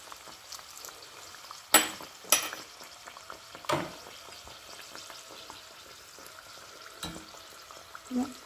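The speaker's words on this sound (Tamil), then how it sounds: "இப்போ இந்த சமோசா எல்லாம் வெந்துக்கிட்டுருக்கு" Chicken samosas frying in a small iron pan: a low, steady bubbling sizzle of oil throughout, broken by a few louder clatters and knocks as they are turned, close and fairly quiet.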